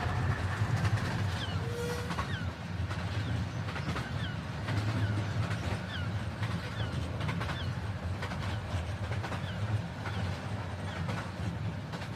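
A steam train rumbling along its rails with a steady low roll and faint rhythmic clatter, continuous and fairly close, with occasional higher squeaks.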